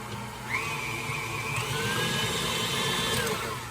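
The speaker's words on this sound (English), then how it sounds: "if you're using a mixer like this, you just don't want to over mix the dough" Electric hand mixer beating a very wet cream cheese biscuit dough, a steady whirring motor drone throughout with slight pitch shifts as the beaters work, close and continuous with no talking.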